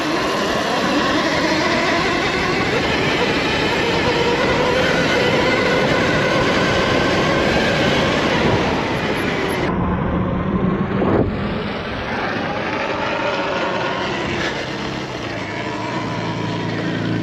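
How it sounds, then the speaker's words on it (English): Talaria electric dirt bikes accelerate hard in a drag race, a loud rising whine and rushing wind at close range, then the sound drops sharply and the whine fades and shifts as the bikes pull away. "So as you could tell, the normal Talaria actually pulls away slightly quicker"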